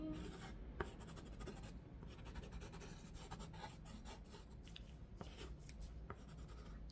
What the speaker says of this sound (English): I'm just going to sketch this on your